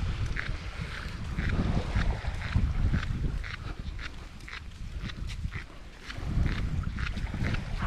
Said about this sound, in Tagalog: Ang ganda ng hangin.